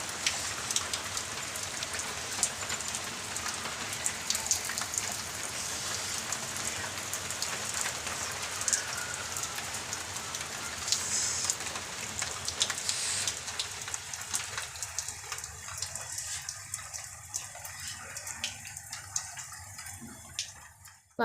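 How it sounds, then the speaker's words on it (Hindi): Heavy rain pours down steadily, a dense hiss of drops striking surfaces close by, with no voices; the downpour eases a little toward the end. "यहाँ पे देखो बारिश चालू हो गई इतने ज़ोरों से"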